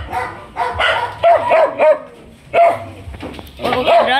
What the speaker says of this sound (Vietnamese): Bé cún bị viêm da này là hôm bữa chủ bỏ, Ti mới nhận con về